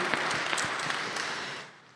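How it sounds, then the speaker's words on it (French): An audience applauds at a digital-inclusion program launch event, a dense, steady burst of many hands clapping that fades out near the end. "c'est elles qu'il faut applaudir"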